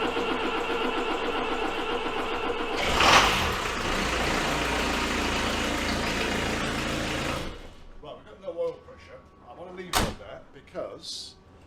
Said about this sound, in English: It's always good when you start a diesel up.